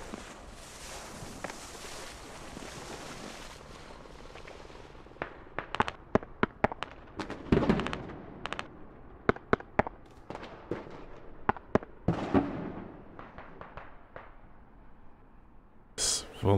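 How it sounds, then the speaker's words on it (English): Rocket blast and gunfire in the video game Squad during a Goose Bay clan-night battle: repeated sharp, loud explosive cracks and bangs in clusters, with a heavy boom near the end over a rumbling battlefield background. "Dren takes a rocket to the face from someone"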